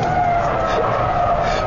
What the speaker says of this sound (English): there's smoke firing out of the back of the car as the inside wheel spins away